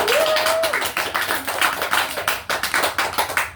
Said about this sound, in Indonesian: Mungkin kita bisa memberikan tepuk tangan kepada